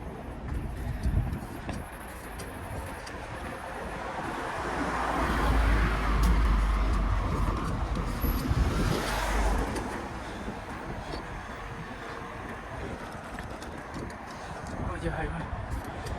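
Steady traffic rumble from cars on a highway in Italy, swelling to a louder passing surge midway and then settling, heard from the roadside with a voice talking over it.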